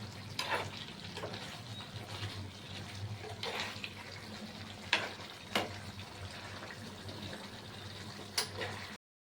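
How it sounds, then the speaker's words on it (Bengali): Potato curry (aloo dum) in an opened covered pan makes a soft bubbling sizzle, broken by several sharp scraping stirs of a spoon against the pan, close and fairly quiet, with no clear talk. "একটুখানি ঢাকা খুলে সেদ্ধ হয়েছে কিনা আর একটু নাড়িয়ে নিচ্ছি"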